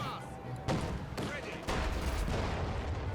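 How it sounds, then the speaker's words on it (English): A Flak Panzer firing in Company of Heroes 2, several distant sharp gunfire bursts with booming battle noise, a few shots spaced over a few seconds. "Flak Panzer getting some shots at a distance."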